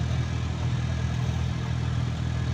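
A Toyota Revo engine idles steadily, a close, even low rumble with a faint clatter running throughout, with no voices.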